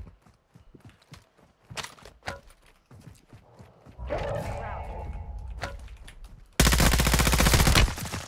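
Gunfire in Warzone 2 on the Vondel map in Resurgence mode, a loud burst near the end after scattered footsteps and movement noise, with players talking over it.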